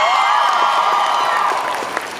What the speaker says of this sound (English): Round of applause for Vision.